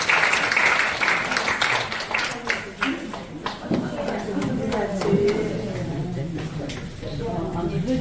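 Applause and clapping from a congregation at a worship service held in a National Assembly building basement hall, mixed with voices and movement as flowers are presented.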